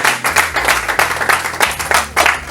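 Applause at a press conference, a crowd clapping steadily and loudly over a sustained low background hum, irregular pulses of many hands blending into a continuous patter.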